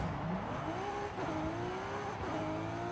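A modified all-wheel-drive 2011 Audi RS3 Sportback in Forza Horizon 5 accelerates, its steady engine note climbing in pitch through a gear change, close and continuous.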